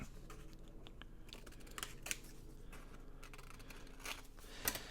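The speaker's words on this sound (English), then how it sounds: "And I'm just going to cut a little ways around it just so I have some to fold over." Scissors cut junk-mail paper around a shape, making a series of quiet, close snips and crisp paper rustles spread unevenly over several seconds.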